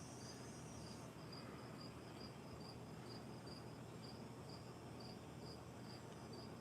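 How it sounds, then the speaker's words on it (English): A cicada calls outdoors near a school, a steady buzzing drone with regular pulsing chirps repeating evenly through the whole stretch, faint and distant over low background rumble, with no voices. "You hear that? That's a cicada."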